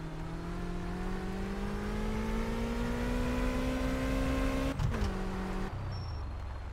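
A Ricochet car engine running rough and revving, a steady droning idle that slowly climbs in pitch, then stumbles and drops abruptly near the end, heard close with no talk.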